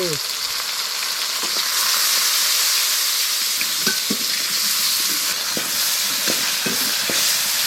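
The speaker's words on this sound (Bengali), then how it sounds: "ওই তেলে জিরে দিয়ে দেবো, পেঁয়াজ টমাটোর কুচি দিয়ে দেবো" Cumin, chopped onion and tomato frying in hot oil, a loud continuous sizzle and hiss with occasional pops and stirring clatter close by.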